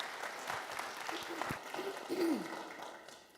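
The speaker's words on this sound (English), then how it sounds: "Let's give our mayor a round of applause." Audience at an employee service award presentation applauds the mayor with steady, moderately loud clapping that slowly thins out, a voice briefly audible partway through.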